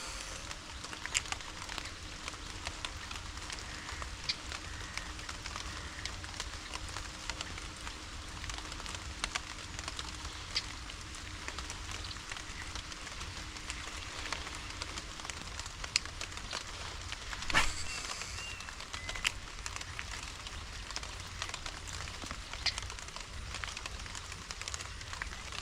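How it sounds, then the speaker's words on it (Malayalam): Steady rain falls outdoors during a fishing outing, a continuous broadband patter with a faint background hum for the first part and a brief louder spatter near the middle, with no talk. "മനസ്സിലായോ? മഴയാണ്"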